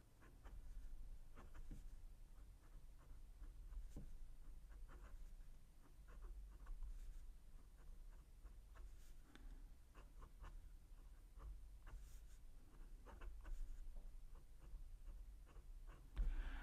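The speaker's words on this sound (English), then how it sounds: "let's see how the pen lays it down to paper" Hongdian N7 piston-filling fountain pen with a No. 6 nib laying down dark blue-purple ink on paper, a very faint, continuous fine scratching with small ticks of strokes, close and soft, with no talking.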